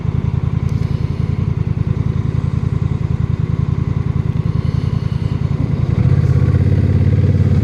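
A motorcycle riding along, with a close, steady low engine drone that thickens and grows louder near the end as the throttle opens, and no talk over it.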